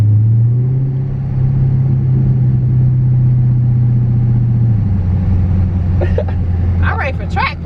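2018 Dodge Charger Daytona 392 with a ZAutomotive Tazer installed, its engine holding a loud, steady low rumble that drops in pitch partway through, with a few faint clicks near the end.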